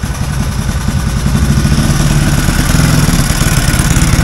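A Honda XL motorcycle engine idles close by, a loud, steady, rapid chugging pulse with mechanical clatter that continues throughout.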